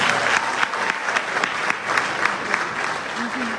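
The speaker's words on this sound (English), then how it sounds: "please can you give our General Secretary another round of applause?" An audience at a political party's 30th anniversary event breaks into a sustained round of applause, dense clapping from a large crowd with a few sharper claps standing out.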